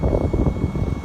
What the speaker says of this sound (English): The thing you hear in the background is a fan running.